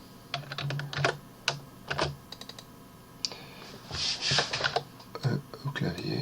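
Keys clack on a computer keyboard in short irregular bursts and single taps, close by, while someone speaks quietly in French between them.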